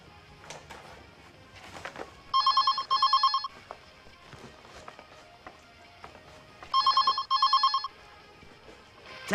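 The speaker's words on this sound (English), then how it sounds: "Telephone. Oh, the phone." Office telephone ringing in two double-burst trills, loud and close, separated by a pause with light desk clatter in between and no talk.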